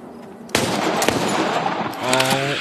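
A gun fired at gates outdoors lets off a loud, close burst of rapid gunshots that rings on, with a shout near the end.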